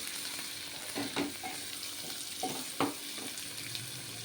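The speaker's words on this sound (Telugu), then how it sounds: "చూడండి ఇట్లా వేగిన ఉల్లిగడ్డలు" Onions browning in a pan for an egg masala curry, a steady hiss with a few spoon scrapes and clinks against the pan, moderately quiet and with no voices.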